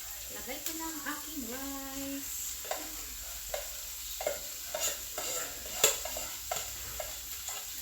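Rice with carrots for chicken fried rice is stirred in a hot pan, with a series of soft scraping strokes over a low, quiet sizzle; a voice speaks briefly near the start.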